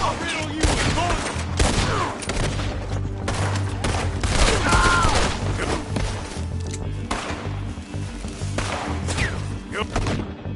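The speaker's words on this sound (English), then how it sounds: "I'll riddle you with bullets." Gunfire in the Red Dead Redemption 2 video game, dense rapid volleys of shots and thuds continuing throughout, with voices shouting over the fight.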